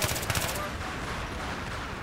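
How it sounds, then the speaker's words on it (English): Burst-fire gunshots from a weapon in the video game Battlefield 3 crack in quick groups at the start, followed by a low, muffled game soundscape. "Burst fire, take your time, but you get a kill."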